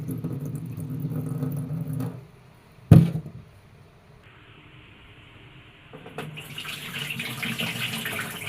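Tap water runs and splashes steadily while soya chunks are washed, stops with a sharp knock, then after a quiet pause flows again in a bright, hissing stream.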